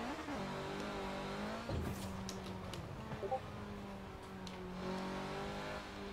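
A car engine drives in the video game Forza Horizon 4, its pitch rising and falling as it shifts through gears, with a brief rev burst midway and a steady loud drone throughout.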